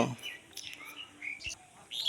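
Soft pigeon chirps and faint calls come in brief bursts over a quiet background, with light rustling between them.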